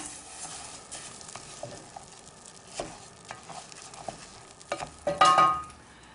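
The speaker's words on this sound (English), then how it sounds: "And just toss into the butter. Stir through just till it gets coated lightly and is glossy." Basmati rice is tossed and stirred into melted butter in a pan, making soft scraping, rustling stir strokes with a light sizzle underneath that build toward a louder burst at the end, no voices.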